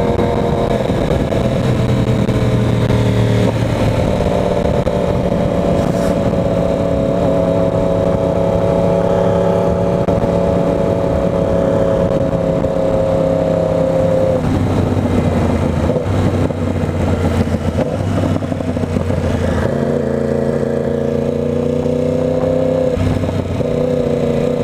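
A 2020 Yamaha R1 sport motorcycle revs and pulls through the gears, its engine note climbing and dropping in several rising sweeps with shift breaks, loud and close with no talking.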